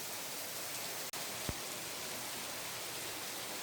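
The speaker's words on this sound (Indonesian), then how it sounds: "tapi hujan deras" Heavy rain pours down in a steady, dense roar on an Indonesian afternoon, with one sharp click and a brief low thump breaking the constant wash of sound.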